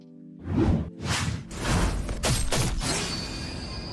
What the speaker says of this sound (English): I added my own sound effects here for the sword swipe.